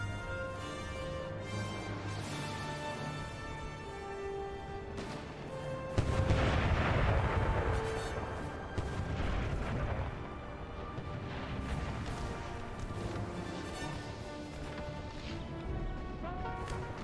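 Artillery and rifle fire in a Civil War battle video game, repeated cannon booms and crackling musketry rolling at a distance, swelling to a heavier barrage midway before settling back to steady fire.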